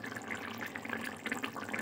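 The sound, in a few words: water being poured into chicken curry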